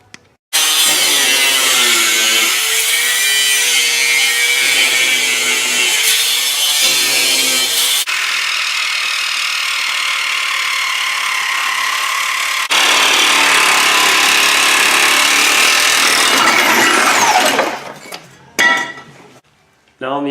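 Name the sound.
cutting off part from Jeep frame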